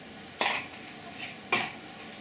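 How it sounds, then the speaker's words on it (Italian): Sticks knock and scrape inside a small container while silicone is stirred with its hardener, giving two distinct clinks about a second apart and a fainter tap between them, close and otherwise quiet. "con il suo induritore che andremo a mescolare in recipienti del genere con delle stecchette del genere"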